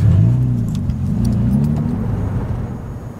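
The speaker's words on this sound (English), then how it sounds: "Trying to drive super quietly so he doesn't hear me showing up" A car driving slowly and quietly along a road, a low engine hum and tyre rumble close by, with a faint jingle of keys on top and no one talking.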